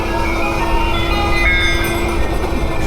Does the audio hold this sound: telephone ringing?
no